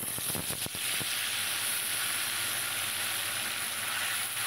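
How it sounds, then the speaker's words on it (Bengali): Amudi fish frying hard in hot oil for a fish-and-vegetable chorchori, a steady close sizzle with a few sharp crackles near the start. "মাছগুলো প্রথমে তেলের ওপরে দিয়ে দিলাম, বেশ কড়া করে ভেজে নেব।"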